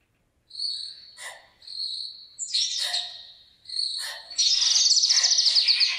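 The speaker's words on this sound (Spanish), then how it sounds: "No nos cuesta nada escuchar los trinos, muchos de los pájaros, casi como si fuera de mañana." Birds in Cabo Rojo trilling and chirping in short bursts, with bright, rapid high trills building to a sustained chatter near the end, close and clear against quiet surroundings.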